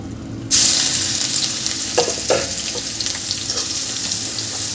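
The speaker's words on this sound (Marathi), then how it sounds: "यामध्ये आपल्याला बारीक चिरलेला हा कांदा घालून घ्यायचा आहे, बारीक चिरलेला।" Finely chopped onion drops into hot oil with whole spices and bursts into a sudden loud sizzle, which settles into a steady crackling hiss broken by a couple of stirring scrapes.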